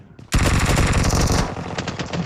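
Loud, close automatic gunfire from the PUBG video game on the Erangel map: a sudden dense burst of rapid shots that continues for over a second, then eases into slightly lighter firing.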